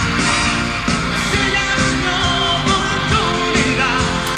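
A live concert audience screams and cheers in a dense, continuous roar of many voices. The crowd noise stays loud and close throughout, with music blended underneath.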